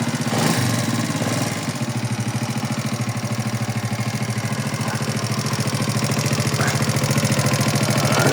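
An 80cc motorcycle engine runs steadily after a kick start, giving a loud, rapid, even putter that holds for the whole stretch with no talking.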